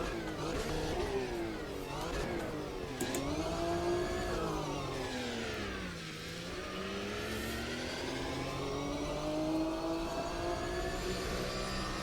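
Car engine in the racing sim Automobilista 2 revving steadily, pitch climbing and falling through gear changes with a dip near the middle, loud and continuous with no talk.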